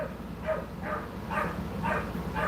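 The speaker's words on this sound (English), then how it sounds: "There's that dog, but he's treed in there in the kennel." A dog in a kennel gives about five evenly spaced, muffled barks or yips from some distance, over a constant low background hum.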